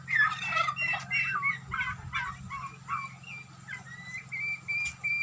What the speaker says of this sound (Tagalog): Ito yung mga alaga nilang pabo.